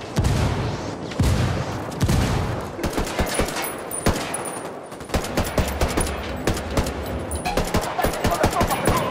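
Gunfire in the video game Ghost Recon Wildlands comes in loud, rapid bursts and a sustained fusillade, close and continuous, with occasional voices mixed in.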